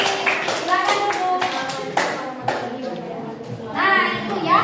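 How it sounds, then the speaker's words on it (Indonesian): Children in a classroom clap in scattered bursts, mixed with kids' voices and chatter, fairly close and lively rather than steady applause. "Oh, sudah bagus, tepuk tangan."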